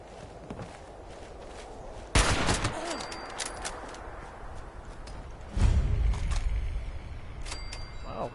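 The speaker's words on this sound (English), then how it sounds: "Combat shotgun." Combat shotgun firing in the post-apocalyptic West Virginia of Fallout 76, two loud broadband blasts a few seconds apart over a steady hiss of game ambience and light footsteps, with no voices.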